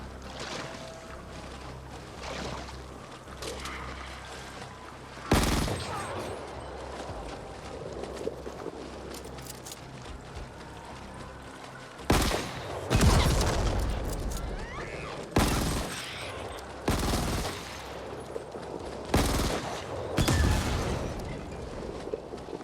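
Gunfire from a favourite weapon in the video game The Ascent during a prison-break mission: scattered loud bursts of shots stand out over steady game ambience, in several separate volleys.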